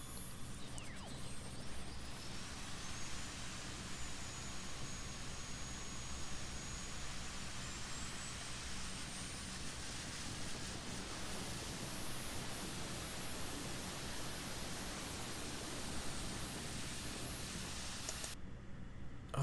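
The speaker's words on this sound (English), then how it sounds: "Oh, it's literally just a leaf blower." A jet-powered leaf blower roars continuously at close range, a steady, loud broadband rush with a high whine on top that holds unbroken throughout, with no voices over it.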